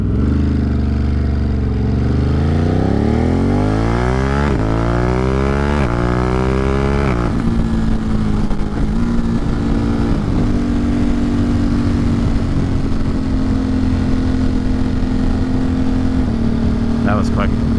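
A motorcycle on a dusk gas-run ride through the Catskill Mountains: the engine climbs in pitch through several gear changes, then settles into a steady close drone, with continuous wind rush throughout.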